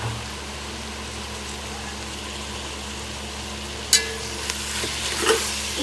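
Ginger garlic paste frying in a pan for chicken biryani, a low steady sizzle with a sudden sharp splatter burst partway through and a few lighter crackles after, close and without speech.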